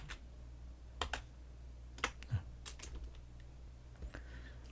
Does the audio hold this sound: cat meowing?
no